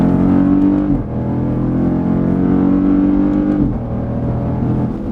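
A 2020 Dodge Durango SRT 392 V8 accelerates hard, a loud, close, deep engine roar that drops in pitch at two upshifts and then climbs again, with no talking.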